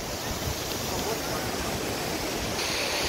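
Snowmelt water pours down Manthoka Waterfall near Skardu in Gilgit-Baltistan, Pakistan, a constant, dense, hissing rush that fills the scene without pause.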